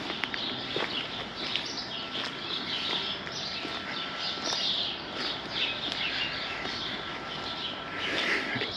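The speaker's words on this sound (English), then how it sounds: "You can listen to the birds singing." Several birds chirp and tweet in a garden in Palma de Mallorca over a steady outdoor hiss, with faint footsteps or shuffling close by.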